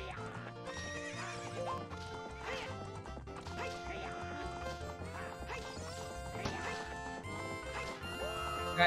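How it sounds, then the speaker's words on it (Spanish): A horse from the video game Zelda: Ocarina of Time whinnies over clip-clopping hooves and busy game music, with a muffled player voice faintly underneath. "Caballo."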